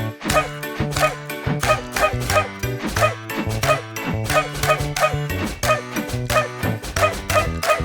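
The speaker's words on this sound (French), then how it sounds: "Un fermier avait un petit chien et son nom était Bingo." Small dog barking in a French children's song about a farmer's dog, with short yips repeating on the beat over bouncy music, the rhythm staying steady throughout.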